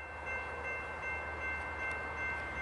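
A BNSF freight train hauling auto racks passing Carlsbad Poinsettia Station, with a faint, steady low rumble and a thin tonal hum, heard at a distance.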